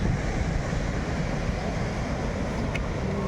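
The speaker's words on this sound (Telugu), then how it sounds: "అలలు చూడండి." Ocean waves roll onto Kanyakumari beach as a continuous, rushing roar of surf, mixed with gusty wind buffeting the microphone outdoors.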